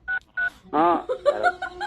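Telephone keypad dialing tones as a phone number is entered: two short, crisp beeps in quick succession, then a voice talks close by.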